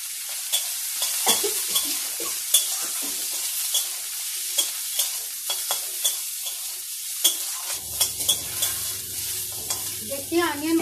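A medium onion and green chillies frying in oil for a small fish curry, a continuous crackling sizzle with repeated spatula scrapes and taps, a low hum joining in toward the end, close up.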